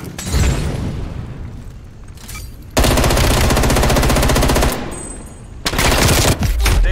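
Sustained automatic gunfire from a multiplayer Call of Duty: Cold War match, a dense rapid burst running for about two seconds amid other loud weapon fire and booms, with brief gaps between volleys.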